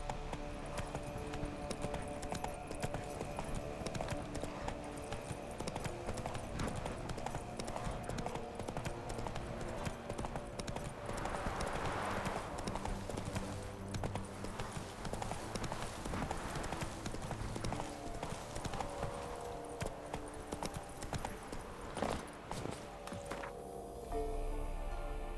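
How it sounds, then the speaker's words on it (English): A horse ridden in The Witcher 3: Wild Hunt clip-clops along in a steady, even hoofbeat rhythm that lasts throughout, over constant game ambience. "Come on, Roach"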